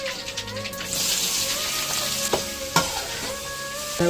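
Onion and mustard seeds frying in oil for a poori potato masala, a loud close sizzle with stirring scrapes and a couple of sharp utensil knocks.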